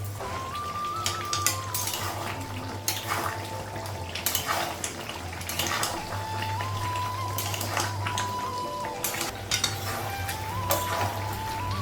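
Meat fries in a pan with a steady, close hiss and sizzle, a faint tonal whine running underneath throughout.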